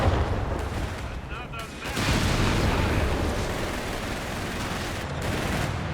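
A grenade goes off in a Company of Heroes 3 match, a broad loud burst amid constant rumbling battle noise, gunfire and explosions layered throughout, with brief voice fragments in the mix.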